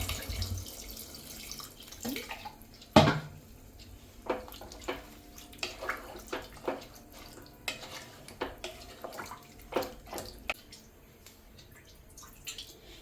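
Water poured into a cooking pot of chicken pieces, a sharp splash followed by a run of intermittent dripping and sloshing knocks, close by and without speech.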